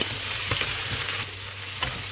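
Aloo gobi mattar stirred in a hot pan with the lid just lifted, a continuous loud sizzle of frying with a few scraping strokes of the spoon, no voices present.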